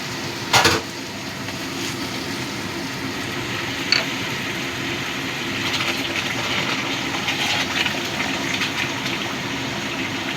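Hot water pours into a pan of Bengali katla fish kalia curry, a steady rushing gush with sizzling, after a sharp clank of a vessel at the start and a faint clink midway, close and fairly loud.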